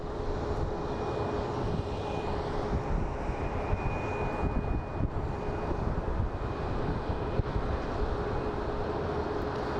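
A steady, continuous roar of jet engines as an airliner taxis at Phoenix Sky Harbor International Airport, with a faint sustained whine running through it, even and fairly loud from start to end, no voices.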